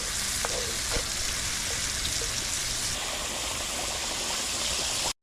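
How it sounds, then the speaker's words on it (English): Creole-seasoned sauce sizzling loudly in a pan as it is stirred, a dense continuous frying hiss with a few light utensil taps, cutting off abruptly at the end. "And we keep stirring."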